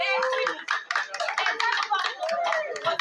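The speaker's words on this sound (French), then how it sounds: "Applaudissez Victoria pendant la descente, s'il vous plaît." An audience at a Christmas singing contest claps in a brisk, scattered burst of applause, with a voice speaking over the clapping.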